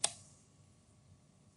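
A single faint, sharp mouse click on a button at the very start, followed by quiet room tone.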